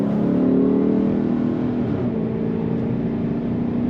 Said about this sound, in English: you can hear that throaty exhaust note come out the tailpipes